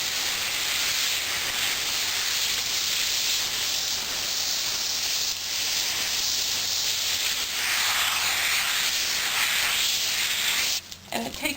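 A water spray hisses steadily and loudly while rinsing shampoo off a horse during a bath, a continuous broad rush that ends abruptly near the close.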